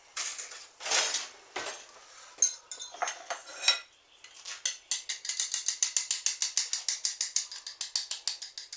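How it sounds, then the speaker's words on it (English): Egg yolks are beaten in a bowl, first with a few scattered clinks and scrapes, then settling into a fast, steady run of rhythmic whisk taps against the side, close and clear with no talking. "We're going to beat our eggs, our egg yolks."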